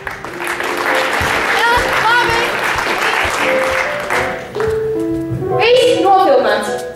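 Applause from an audience at the end of a school performance evening for a 12th-grade class, steady clapping under cheering and a few voices, with talk and singing-like voices rising toward the end.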